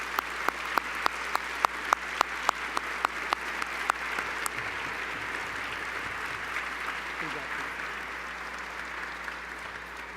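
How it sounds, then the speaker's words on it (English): Applause from an audience at an awards luncheon for broadcasting honorees, starting with a few sharp claps and swelling into a steady, fairly distant wash of clapping that holds throughout. "Please join me in applauding Susan Lucci."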